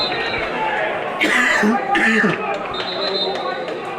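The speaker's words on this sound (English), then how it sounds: "Excuse me here, small little cough." A single short cough from a match commentator bursts out over a busy crowd-like background during a Ballinderreen versus Craughwell game, followed by a second brief throat sound.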